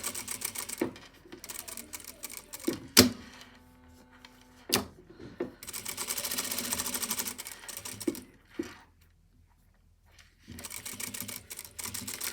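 A sewing machine stitches along the edge of a jacket pocket in a few bursts of rapid mechanical whirring, separated by quiet pauses and sharp clicks, fairly faint and close.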